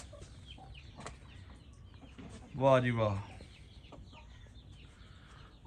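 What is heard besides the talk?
rooster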